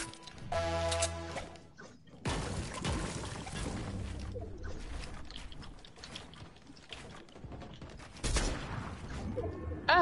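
Video-game gunfire on a PS4 comes in dense, rattling bursts of rapid shots with mechanical clatter, sustained and fairly loud, with no voices over it.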